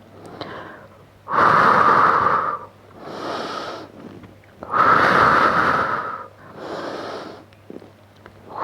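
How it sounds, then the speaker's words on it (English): Heavy rhythmic breathing during a Pilates exercise, alternating loud forceful exhales with softer inhales, close to the mic and without talk. "Breathing out, breathing in."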